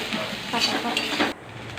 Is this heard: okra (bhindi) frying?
yes